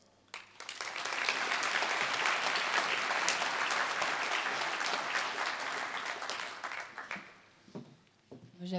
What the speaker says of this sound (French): J'applaudis, mais en fait,